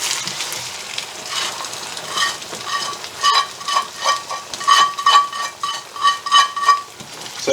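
Mustard, molasses and the other homemade BBQ sauce ingredients for slow cooker coke ribs are stirred together in a pot, with rhythmic scraping strokes that grow louder and quicker toward the end, close up and without talking.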